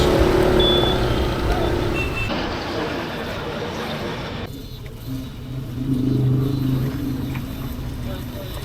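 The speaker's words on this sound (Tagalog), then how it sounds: "Traffic na guys." Road traffic on a street in Kampana, Zamboanga City, with cars passing: a steady roar of engines and tires rises and falls over about nine seconds, without any clear speech.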